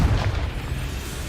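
A Confringo spell explosion in the video game Hogwarts Legacy lands as a short, deep boom that quickly fades into a low rumble.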